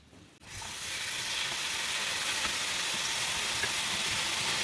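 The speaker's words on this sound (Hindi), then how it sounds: "अब इन्हें भी हम फ्राई कर लेंगे पलटते हुए।" Gujiya pastries fry in oil over a low flame, a steady, dense sizzling hiss that starts abruptly after a brief quiet moment and then holds at an even, fairly loud level, with no speech.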